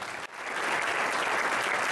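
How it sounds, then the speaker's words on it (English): A banquet audience applauds a men's basketball team, dense continuous clapping filling the room from start to finish with no speech over it. "I'd like to give these guys a round of applause for their belief in one another."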